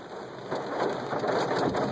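Hail pelts a car during a tornado storm in Edmond, Oklahoma, a loud, dense, continuous rattle of countless impacts on the body and roof, with no voices.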